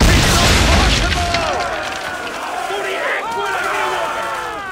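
Powder barrels explode in Assassin's Creed 3 with a loud, broad boom at the start that fades into a rumbling wash, while shouting crowd voices carry on over the top.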